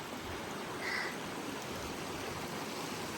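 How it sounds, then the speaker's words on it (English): Rushing water flows beneath a narrow bridge on a mountain road near Payson, Utah, a soft, steady broadband wash heard from a little distance, faint and continuous, with a brief brighter rustle near the middle and no talking. "Crossed the narrow bridge over the raging water."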